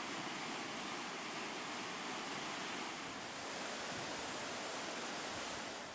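A waterfall on a stream near Adimali, Kerala, gives a steady, full rushing roar, constant from start to finish, with no voices over it.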